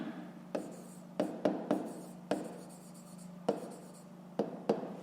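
A pen writes the numbers 1 to 6 on paper at close range, a soft scratching broken by a series of sharp taps as each stroke begins, with no one talking.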